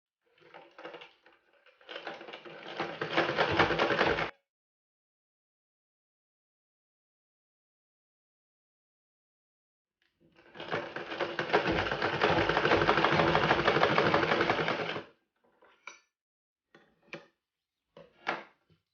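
Sewing machine stitching cloth during a tailoring lesson, heard in two loud, steady runs of rapid needle chatter, a short one and a longer one, separated by silence and followed by a few brief clicks.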